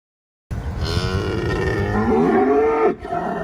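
A cow moos in one long, loud, close call that rises and wavers in pitch before breaking off, with a short tail of sound after it and no talking.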